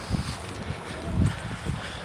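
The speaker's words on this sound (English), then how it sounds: "I think it's really windy." Gusty wind buffets the microphone in low rumbling bursts at Magic Kingdom, Disney World, fairly quiet, with no voices.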